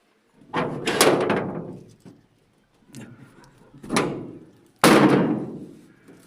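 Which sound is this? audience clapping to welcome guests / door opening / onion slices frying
door opening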